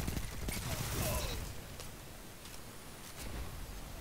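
A submachine gun fires in a video game in rapid bursts, a fast rattling stream of shots that is fairly quiet, thins after the first second and then picks up again near the end.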